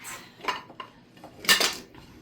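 Dishes clatter as a plate is taken from a stack, with a few separate clinks followed by a louder rattling clash of plates and cutlery near the end.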